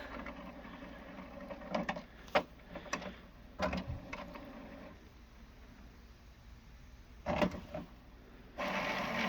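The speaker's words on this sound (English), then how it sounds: "It's going to try to initialize the printer." An HP Officejet Pro 8810 all-in-one printer with an ink system failure initializes, giving off intermittent mechanical clunks, clicks and brief whirs separated by quiet pauses, heard up close with no talking.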